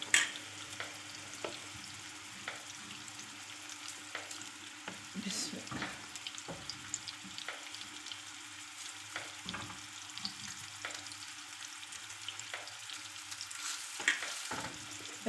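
Chicken tawa pieces sizzle and fry steadily on a hot griddle, a continuous close crackle broken by occasional clicks and scrapes as the pieces are placed and moved, with no talking.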